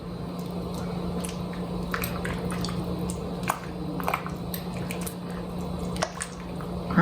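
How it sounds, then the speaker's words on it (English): A spoon stirring chicken and rice in a pot gives soft wet squishes and light scraping clicks, close and fairly steady over a low hum, with no talking. "We're gonna stir it up and then it's done."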